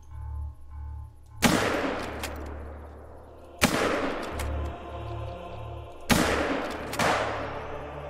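Three loud rifle shots from a hunting rifle in theHunter: Call of the Wild ring out at steady intervals, each a sharp crack followed by a long decaying echo over a low ambient hum.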